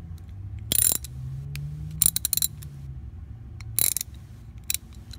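Ratchet socket wrench working on a 7th-generation Nissan Maxima during an oil change, giving a few short bursts of clicking spaced across a quiet background.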